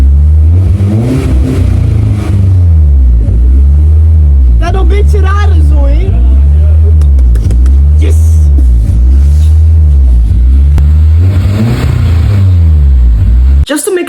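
A Honda S2000 engine revs hard above 3000 RPM, a loud, close, continuous roar with rising and falling pitch sweeps across the whole stretch, while a person talks over it.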